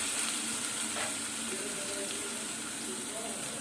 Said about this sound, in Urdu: اب ہم اس میں ادرک لہسن کا پیسٹ اور گرم مسالہ، ثابت گرم مسالے ڈالیں گے اور گھمائیں گے۔